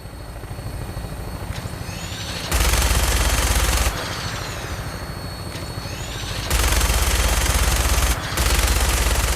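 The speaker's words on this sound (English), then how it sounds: "Make sure you properly identify your targets before you start shooting." Fallout 4 gunfire, played on PS5: two long, loud, continuous bursts of rapid automatic fire ring out over a steady helicopter rotor drone that carries on between them.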